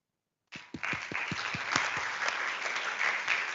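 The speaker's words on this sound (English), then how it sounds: "Let's give a big round of applause to all of you" Audience at a workshop on gender action plans breaks into applause after silence, a few separate claps quickly swelling into sustained, fairly close clapping.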